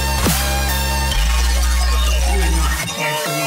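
A loud, buzzing reese bass synth with OTT compression growls through sustained low notes, with a pitch sweep at the start, a note change midway and a dense bright top before cutting out near the end.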